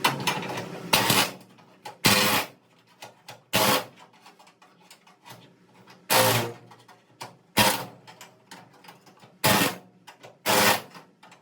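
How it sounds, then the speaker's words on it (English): Air chisel cutting through spot welds on the trunk pan of a 1970 Chevelle under restoration, heard as six or seven loud, harsh bursts of about a second each, spaced with short quiet gaps. "Slide the air chisel between the brace and the metal. It'll cut right through the spot weld."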